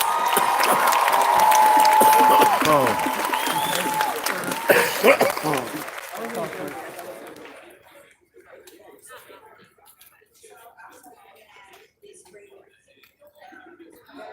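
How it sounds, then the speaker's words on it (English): Crowd at a Denver gathering bursts into applause and cheering, loud at first with talk and shouts mixed in, then fading after several seconds into quiet scattered sounds and distant voices. "Give her a big round of applause, please."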